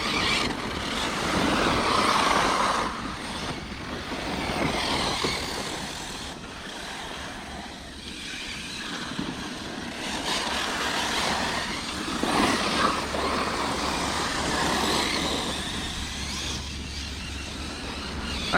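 The engine of a Hobao Hyper 10SC RC car revs hard at full throttle outdoors, a loud, sustained whining buzz that rises and falls as the car runs, steady for the whole stretch.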